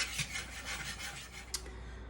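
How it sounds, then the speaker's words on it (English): Whisk scraping and rubbing around a bowl while mixing ingredients for a blackberry and blueberry cobbler, a quiet continuous rhythmic swishing with no voices. "we're going to whisk that all together until everything is incorporated"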